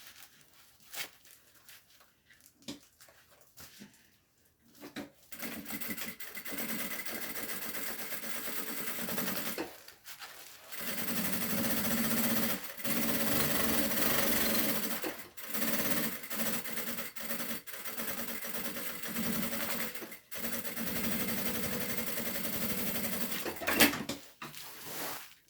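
A sewing machine runs in several bursts of rapid stitching, each lasting a few seconds and broken by pauses and fabric handling, heard close up with no talking.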